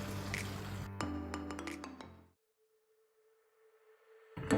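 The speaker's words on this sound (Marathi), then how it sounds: "छान मिक्स करून घेऊया." A spoon stirring masala okra (bhindi) in a pan makes a burst of sharp metallic clinks and soft squishing. Then it falls almost silent except for a faint steady hum, and a light clatter returns at the very end.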